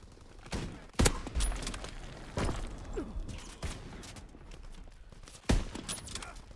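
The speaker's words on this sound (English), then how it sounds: "I'm getting shot at" Scattered gunshots echo through a Call of Duty: WWII multiplayer match on PS4, a few sharp loud cracks standing out above a steady busy din of distant fire and movement.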